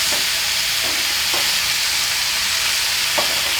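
Bhringraj leaves and chillies fry in a pan with a continuous hissing sizzle, broken by a few faint stirring clicks, close up and steady with no voices.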